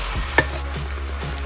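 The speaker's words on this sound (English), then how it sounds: "Now we give it another stir." A spoon stirs curry chicken in a pot, giving a soft scrape and one sharp clink against the side over a faint simmer and a steady low hum.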